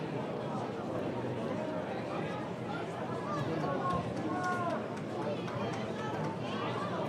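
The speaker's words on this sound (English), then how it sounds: "Kind of a lot of mumbling going on in the crowd." Low, steady murmur of a crowd at a state AA American Legion baseball game between West Fargo and Fargo Post 400, a distant babble of many voices with scattered shouts and footsteps.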